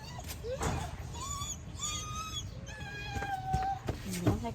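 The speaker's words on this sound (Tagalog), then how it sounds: "Ba't ka naiyak? Aso ko yan eh." A dog whimpers and whines in short high-pitched cries, close by, with people talking over and between the whines.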